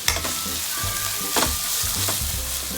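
Onion sautéing in a pan for chicken kharda, a steady close sizzle and fry with repeated scraping stirs of the spatula, no voices.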